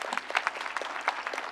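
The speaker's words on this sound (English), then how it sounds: "Let's give another round of applause for our keynote speaker." A graduation crowd at a Kauaʻi Community College commencement claps for the keynote speaker, a short, fairly faint burst of scattered individual claps with distinct sharp hits.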